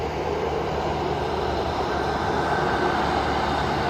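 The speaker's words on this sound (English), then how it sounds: "Fucking trains." A train rolls past close by, a steady loud rumble of wheels and cars that fills the whole stretch without a break.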